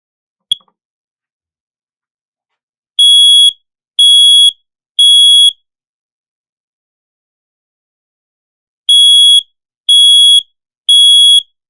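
A First Alert/BRK Precision Detection hardwired smoke alarm being tested sounds in two bursts of three loud, shrill beeps, separated by a pause, after a faint click at the start.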